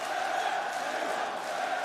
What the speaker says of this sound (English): With a rabid crowd tonight